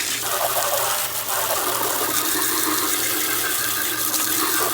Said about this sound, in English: you gotta go and keep rinsing and more foam's coming out.